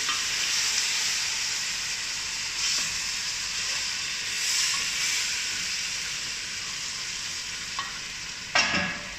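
Broth sizzles and hisses steadily in a makeshift frying pan while being stirred during a home lunch cook, with a sharper scrape or sputter near the end. No one speaks.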